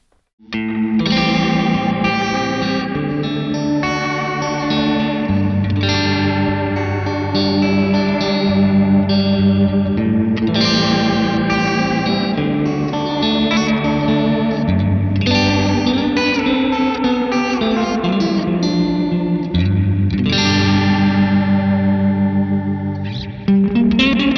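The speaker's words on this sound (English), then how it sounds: "we could put that sort of pseudo-Leslie effect in a bigger space" A sustained chord-based instrument passage swirls with a rotating pseudo-Leslie chorus shimmer and a roomy reverb tail from a Wonderful Audio Technology Ancient Echos reverb, loud and continuous throughout.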